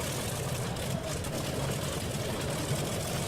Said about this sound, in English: they are both startled by the sound of the seaplane engines firing